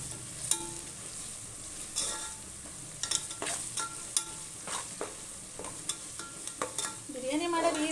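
Ginger-garlic paste masala for chicken biryani sizzles in a pan while a spoon stirs and taps the metal, producing close, irregular scrapes and clinks over steady frying hiss.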